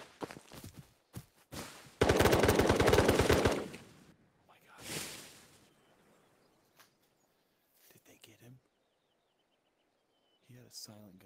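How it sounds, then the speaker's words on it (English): Machine gun fire in the VR shooter Ghosts of Tabor: a sustained burst of rapid shots, loud and close, followed by a shorter burst and scattered quieter sounds, with brief talk mixed in. "He had a silent gun, that was a machine gun."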